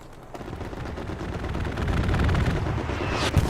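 An aircraft in a video game strafes the ground with a long rapid stream of machine-gun fire that grows louder and denser, ending in a sharp burst.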